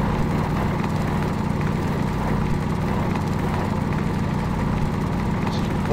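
A small drill cuts through ice in the video game Stationeers on the frozen surface of Europa, a steady droning, grinding hum that runs loud and unbroken for several seconds with no talk.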